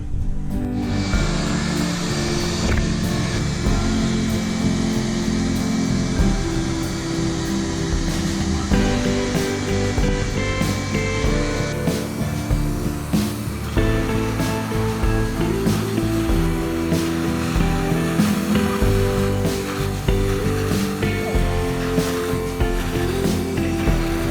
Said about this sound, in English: Gonna suck them up in the vacuum.